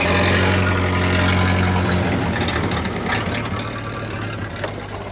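A vintage car engine idles steadily at under 100 revs per minute, a deep, even low-frequency rumble with a faint mechanical tick, loud and close throughout.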